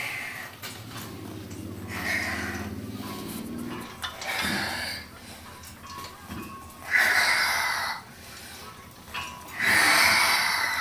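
Heavy, forceful breathing from someone lifting weights during a workout, coming in repeated loud wheezing bursts of exhalation with pauses between efforts.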